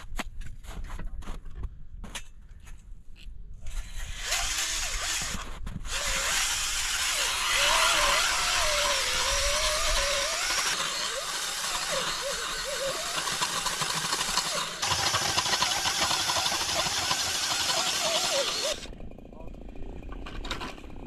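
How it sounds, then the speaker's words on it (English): An underpowered power drill on a welded adapter whines and revs for a long stretch while ice fishing in Labrador, its motor pitch wavering under load, then cutting off near the end. "The drill is underpowered."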